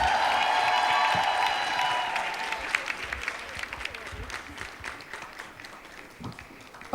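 An audience at a 10th anniversary summit applauds and cheers loudly, the dense clapping strongest at the start and gradually thinning into scattered claps and crowd murmur.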